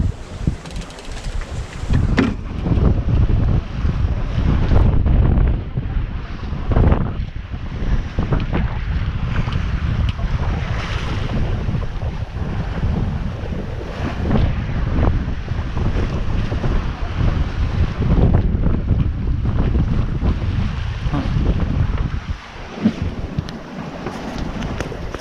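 Strong wind buffets the microphone aboard a Contessa 26 sailing boat at sea in wet, misty weather, with water rushing and sloshing against the hull in a constant roar.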